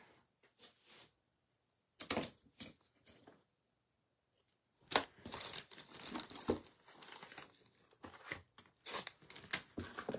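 Scissors cut material for a small chocolate gift box in a few close, crisp bursts of snipping and crinkling, separated by quiet pauses.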